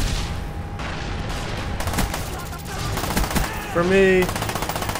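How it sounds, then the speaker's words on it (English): An Uzi submachine gun in Black Ops 1 rattles off rapid bursts of close gunfire over game background noise, with someone briefly speaking over it. "Next on the list, the guns nobody really used in Black Ops 1, I have the Uzi."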